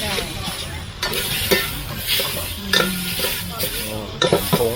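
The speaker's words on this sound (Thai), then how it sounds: "ผัดเครื่องให้หอมใช่ไหม" Curry paste stir-fried in a pan, loud and close: an oily sizzle broken by repeated scraping and clanking strokes of a utensil against the pan.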